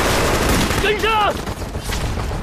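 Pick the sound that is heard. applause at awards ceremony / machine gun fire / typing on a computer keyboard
machine gun fire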